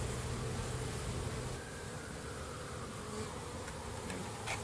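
Honeybees buzzing at an open hive, a dense continuous drone close to the microphone with steady loudness and a faint hiss underneath, no talk.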